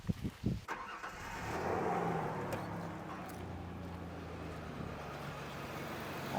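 A 2001 Ford Ranger engine cranks with a few quick chugs, catches and settles into a steady idle after a fan clutch replacement, heard fairly close with no talking.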